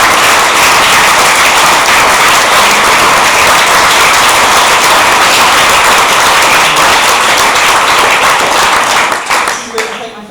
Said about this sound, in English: my sister starts the applause